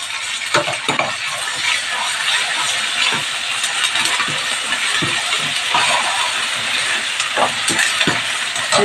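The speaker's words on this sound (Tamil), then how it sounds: "இதையும் போட்டு நல்லா வதக்கிட்டுலாம்." Continuous sizzling of ginger garlic paste sautéing in a pan for bottle gourd kootu, with occasional scraping stirs, steady and close.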